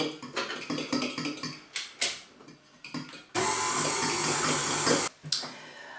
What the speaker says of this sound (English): I'm going to start creaming this mixture until we can no longer see the grains of the sugar inside the butter